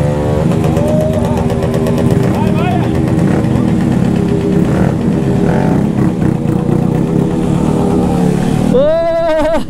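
A motorcycle engine drones and revs loudly while riding, a steady rough hum with shifting pitch from throttle changes, heard close up, with an engine rising sharply near the end.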